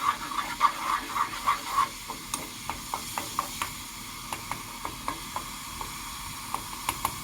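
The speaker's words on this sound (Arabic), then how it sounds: "هذا الصوت ديال الزيت بحال كتقلى" Garlic frying gently in oil, a soft sizzle with bursts of crackle early on, then quieter steady popping in a regular rhythm, close and faint, with no one speaking.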